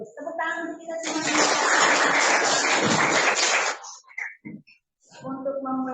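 Students in a vocational high school classroom break into a burst of loud, dense clapping lasting about three seconds, framed by a voice speaking before and after.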